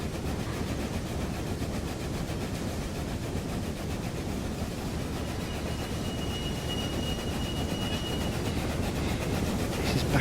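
Trains running in the Railway Empire video game, heard as a steady, dense rumbling roll of rail cars with a faint clickety-clack texture, continuous and fairly loud throughout with no talking.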